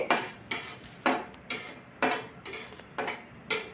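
Cumin seeds being dry roasted in a pan, with sharp rhythmic scraping strokes about every half second, close and clear with no talking.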